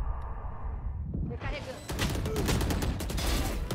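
Rapid bursts of gunfire in the tactical shooter game Valorant, loud and dense after a quieter opening, with the game's sound effects filling the mix.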